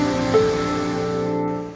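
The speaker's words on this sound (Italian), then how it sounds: "A poche decine di metri c'è la cascata del Rio Repeteit." Rio Repeteit waterfall near a stone bridge over the Raccolana torrent in Friuli, a steady broadband rush of falling water that holds level and close throughout, with no voices.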